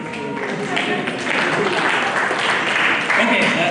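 Dense, steady applause from a conference audience at a real estate and infrastructure event, loud and close throughout, with a voice faintly mixed in.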